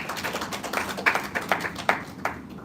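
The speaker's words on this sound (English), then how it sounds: "I think that deserves a round of applause" A round of applause breaks out at a press conference for the Hollywoodbets Durban 10km race: scattered, moderately close hand claps with a few sharper individual claps standing out, and almost no talk.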